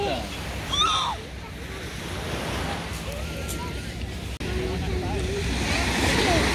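Sea waves on a rocky beach wash in a steady roar with wind buffeting the microphone, while a person talks over the surf.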